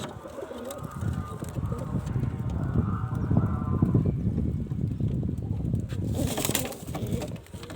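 Pigeons in a loft coo steadily at close range, a soft layered murmur of several birds with wing flutters and shuffling, no talking.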